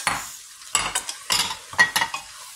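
Tomatoes, bay leaf and garlic tipped into a hot pan and stirred, giving bursts of sizzling frying with scraping stirs in short repeated surges, close and fairly loud, no talking.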